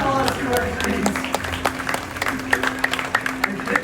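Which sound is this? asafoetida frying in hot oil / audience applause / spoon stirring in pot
audience applause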